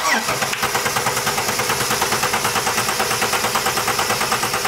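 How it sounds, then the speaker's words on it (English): A Ford AU Falcon engine cranks over steadily on the starter during a compression test, a loud, even, rapid chugging rhythm that keeps going without a break and never catches. "All right, so we're gonna compression test cylinder number one."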